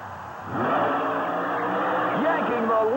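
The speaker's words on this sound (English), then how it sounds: "Paul Schaefer, is now behind the wheel of the nitrous oxide-injected 588 cubic inch Chevy-powered machine." A nitrous oxide-injected 588 cubic inch Chevy-powered mud racer revs hard at a 1991 Roanoke motorsport event, its loud, steady engine roar rising with sweeping pitch changes under an announcer's voice.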